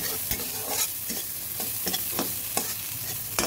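Spiced sweet corn is stirred in a pan over low heat, with repeated scraping strokes over a soft sizzle.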